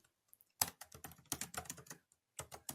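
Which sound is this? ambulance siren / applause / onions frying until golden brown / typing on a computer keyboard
typing on a computer keyboard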